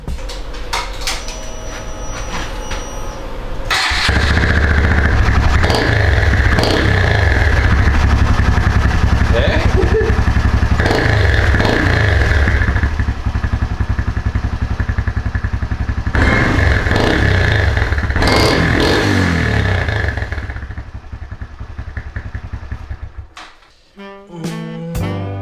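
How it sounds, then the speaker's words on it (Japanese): A Honda Grom motorcycle with a Two Brothers Racing S1R carbon full-system exhaust and baffle cranks and fires up, then idles loud and rumbling through the throaty exhaust with occasional revs before cutting off amid clatter. "とりあえずエンジンかけてみますね。"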